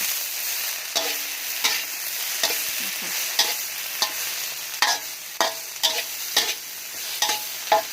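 Thai crispy mussel omelette batter sizzles steadily in a hot pan while a utensil scrapes and taps against it at irregular intervals.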